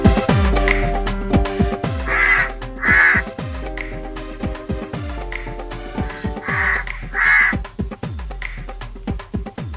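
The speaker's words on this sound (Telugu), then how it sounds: "మన ఇంటికాడ కాకులు బాగా అరుస్తున్నాయి" Crows caw near a village house in loud bursts of harsh calls, in two clustered groups over steady background music, with no talking.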